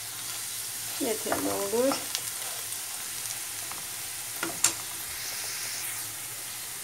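Food sizzles steadily in a pan on the stove as a Turkish breakfast börek-style dish cooks, a constant close frying hiss with occasional stirring scrapes, and someone speaks briefly over it.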